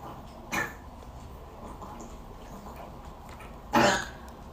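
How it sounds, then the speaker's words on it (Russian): A dog coughs while drinking water: two short, sharp coughs, one early and a louder one near the end, separated by quiet background noise. "Моя собака всегда, когда пьет воду, кашляет."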